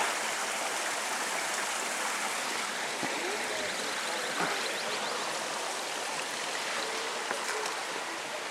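A steady rushing of a flowing river fills the whole stretch, broad and continuous, with faint splashes and ripples rising now and then, in Asturias near the Picos de Europa.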